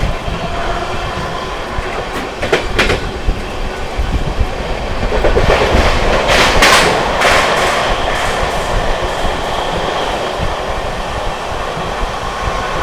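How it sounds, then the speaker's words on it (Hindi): An Amrit Bharat Express on the Delhi to Gaya run races through Mirzapur without stopping, a loud steady rush of wheels on rail with sharp clicks and bursts of clatter as it passes points. "दोस्तों ट्रेन अपनी स्किप करने जा रही है मिर्जापुर। स्किपिंग मिर्जापुर।"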